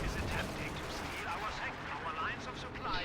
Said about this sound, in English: The artillery is a little bit late. It's firing, but at the last known position of the AT guns.